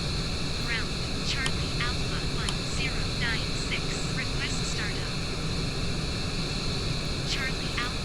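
An airliner taxiing at Suvarnabhumi airport in the RFS flight simulator game produces a steady broadband jet engine hiss and rumble, with sweeping chirps above it and someone talking throughout.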